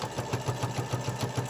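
A sewing machine stitches fabric for quilted hot pads in a steady, fast mechanical rhythm of even thumps, close and fairly loud, with no voices.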